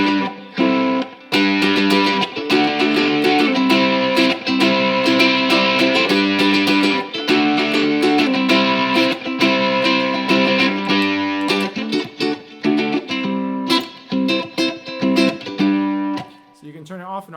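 A ukulele played through overdrive and distortion pedals rings out loud with sustained, buzzing chords and sharp strums, continuous for most of the passage before choppier notes near the end.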